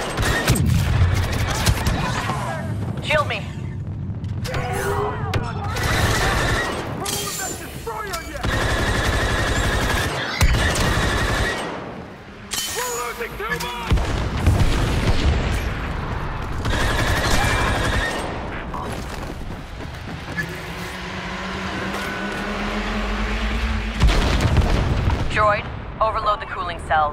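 Cannons fire in Star Wars Battlefront II, with repeated heavy blasts and rapid gunfire bursts in a dense, loud battle soundscape, while voices talk over the action.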